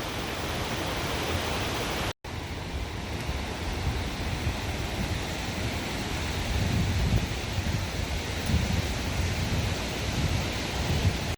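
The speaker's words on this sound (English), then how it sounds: "I definitely see the waterfall, so we are almost there. All this water coming off this rock." Steady roar of the waterfall at Wahclella Falls, water pouring off rock, a dense continuous rush heard close and loud for the whole stretch with only a momentary dropout.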